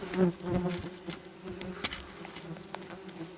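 Wasps buzzing at a large nest in an attic, a close, steady insect drone with a few sharp clicks and knocks, no talk.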